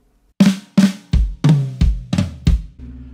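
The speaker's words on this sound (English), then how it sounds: "So he plays two flams on the snare drum, he plays one flam on the high tom, and he plays one flam on the floor tom." A drum kit plays flams in a fill, two on the snare, then one on the high tom and one on the floor tom, a quick run of punchy doubled hits descending in pitch, close and loud.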